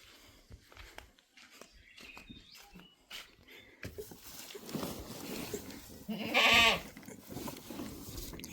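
A lone goat left by itself on a farm bleats, with one loud, close cry near the end standing out from quieter rustling and footsteps.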